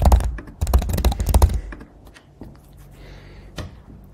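A password is typed on a computer keyboard in quick clustered keystrokes, loud and close for about a second and a half, followed by a few scattered soft taps and a final click.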